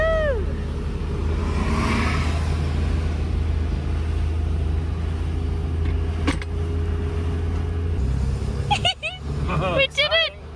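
A car drives away from a port in Russia, its engine rumbling steadily from inside the cabin, while people chat throughout and short sharp clicks and knocks break in near the end.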